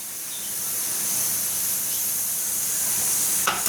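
Brinjal fries in a pan with chana dal and sesame powder for a spicy Tamil-style poriyal, giving a steady, loud, close sizzling hiss with a brief clatter near the end.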